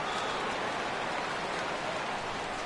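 Rain pours steadily during a baseball game in MLB The Show 17, an even, dense hiss of falling drops with no pauses or voices.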